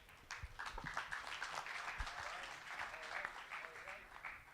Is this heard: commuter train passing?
no